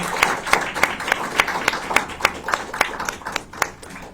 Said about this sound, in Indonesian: tepuk tangan yang meriah untuk Mbak Sri